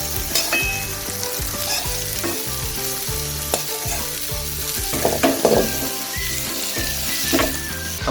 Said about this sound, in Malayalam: നമുക്കിനി ഉള്ളി വറുത്തെടുക്കാമേ.